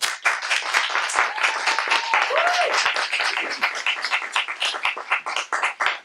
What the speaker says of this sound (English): So much growth, so much willingness to step on the stage. So I applaud you.